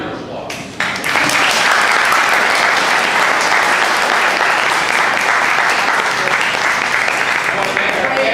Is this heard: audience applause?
yes